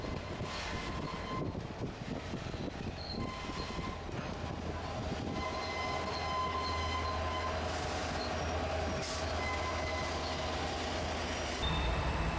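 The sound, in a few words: train car wheels squealing around Horseshoe Curve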